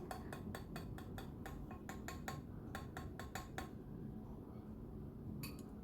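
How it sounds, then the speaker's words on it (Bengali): A metal spoon clinks repeatedly against a bowl of smooth mashed sweet pumpkin, a quick run of sharp taps followed by a second burst and a lone tap near the end, close and clear over a steady low background hum. "এখানে চামচের সাহায্যে আমি দেখে দিচ্ছি কতটা স্মুথ করে আমি ম্যাশ করে নিয়েছি"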